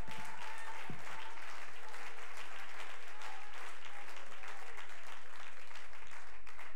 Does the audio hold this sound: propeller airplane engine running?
no